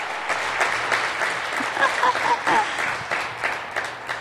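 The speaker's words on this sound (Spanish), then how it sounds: "De un aplauso, pues." A church congregation gives a round of applause, moderately loud clapping from a group that swells in the middle and then tapers off, with some faint voices underneath.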